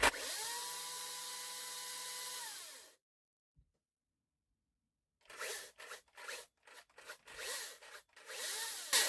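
A Makita DUC353 cordless chainsaw runs at variable speed. It gives a whining electric motor tone for about three seconds that winds down to silence, then comes back as a series of short bursts at different power levels.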